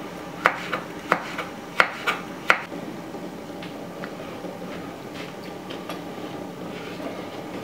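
A knife finely chops pepper on a cutting board, several sharp close chops in the first few seconds, then fainter scattered taps.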